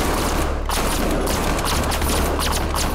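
Dense, continuous gunfire from armed enemies in the tactical horror shooter SCP 5K, a loud unbroken barrage of overlapping shots and bursts lasting throughout.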